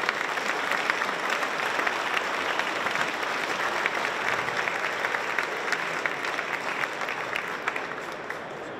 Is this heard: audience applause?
yes